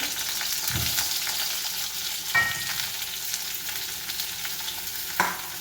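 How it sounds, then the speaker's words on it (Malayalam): Onion frying in hot coconut oil gives a continuous close sizzle, broken by a few soft scraping stirs. "ചൂടുള്ള വെളിച്ചെണ്ണയാണ്. അതിലേക്ക് സവാള ഇട്ടു"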